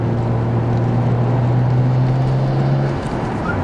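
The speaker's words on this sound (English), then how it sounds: "This one actually sounds a little bit more beefier, but maybe it's just because of how the RB is compared to other engines" Nissan Skyline GTR R32 V-Spec with its RB engine running: a loud, steady low exhaust drone holding one pitch for about three seconds, then dropping slightly as the revs settle.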